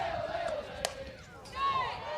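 A Huskies cheering squad chants and yells at a girls' state high school softball semifinal, a faint, distant crowd of voices rising toward the end with a brief sharp shout.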